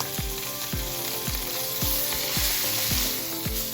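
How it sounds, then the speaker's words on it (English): Rack of lamb seared in a hot pan, a steady loud sizzle with repeated low thumps as the meat is turned and pressed against the pan to brown the ends. "Grab the meat with a tongue and cook the ends as well. We need a good sear."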